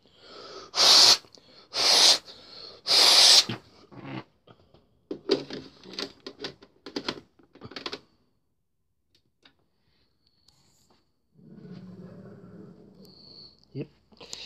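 Three forceful breathy blows into an Atari Jaguar game cartridge, evenly spaced and close, followed by clattering handling noises.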